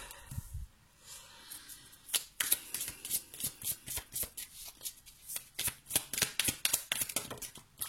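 Tarot cards being shuffled and handled close up, a rapid run of crisp riffles and flicks that keeps going with a steady rhythm.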